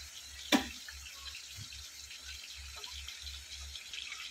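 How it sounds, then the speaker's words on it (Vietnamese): A kitchen tap runs as a pot is filled with water for soup, a steady soft hiss with a brief clunk near the start and a low pulsing hum beneath. "Thì bây giờ mình sẽ đi chuẩn bị bắt vòi nước lên."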